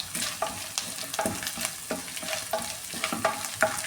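Cinnamon, cloves, cardamom and bay leaf fry with ginger and garlic in oil for a chicken curry, a close, continuous sizzle punctuated by rhythmic scraping strokes of a stirring spoon, with no talking.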